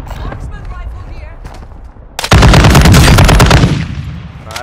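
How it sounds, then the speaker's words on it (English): Marksman rifle fire in a video game: after quieter ambient background with a voice, a loud, close sequence of rapid, evenly spaced shots breaks out and holds for about two seconds before fading. "Marksman rifle here."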